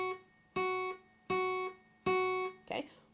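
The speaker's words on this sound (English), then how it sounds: "So every time you see one, I would play a note. It would sound like this." Four plucked guitar notes, each held for one beat at a steady pace, clear and close, with a brief scrape or voice sound near the end.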